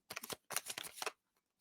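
A deck of tarot cards is shuffled by hand in two quick bursts of riffling and flicking, close and crisp, followed by quiet.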